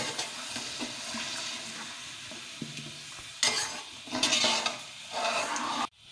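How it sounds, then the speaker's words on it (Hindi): Yogurt korma mixture is stirred in a pot, its spoon scraping and swishing through the thick, sizzling mix in steady strokes, with louder rough bursts toward the end before it stops abruptly. "अच्छे तरीके से इसको मिक्स करेंगे।"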